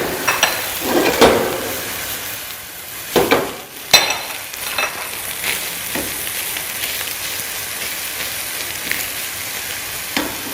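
A soya sauce mixture fries in a pan with a steady sizzle, punctuated by several sharp clinks and scrapes of a utensil stirring against the pan.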